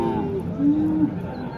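Cattle at a livestock market give a low, drawn-out moo over steady background crowd noise and chatter, the call rising and holding briefly before fading back into the busy ambience.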